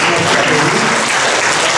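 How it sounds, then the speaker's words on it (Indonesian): Audience applause at a literary talk on tolerance, a dense, steady wash of clapping that fills the whole stretch at close range, with faint voices mixed underneath. "Kita beri tepuk tangan untuk ini."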